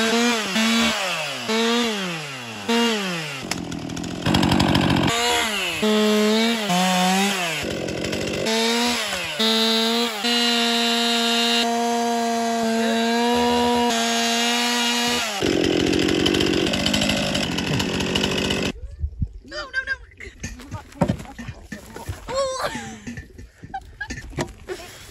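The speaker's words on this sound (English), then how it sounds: "You're gonna teach me how to chainsaw." A chainsaw cuts into a tree, its engine revving up and down in repeated bursts and sustaining a loud whine while cutting, then cutting out and leaving quieter rustling and faint outdoor sounds.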